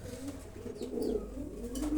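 Pigeons coo softly and repeatedly at a farm, a low rolling murmur that runs steadily throughout with no talk over it.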